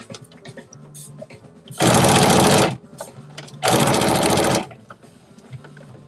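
A sewing machine stitches a clutch bag in two loud sustained bursts, each nearly a second long, with a quiet pause between and low background sounds on either side.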